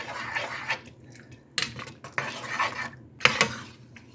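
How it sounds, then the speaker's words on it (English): Clam chowder being stirred in a pot on the stove, with repeated scraping and clinking of a utensil against the metal sides in short bursts alongside faint liquid sounds. "we're going to stir it until it is thickened"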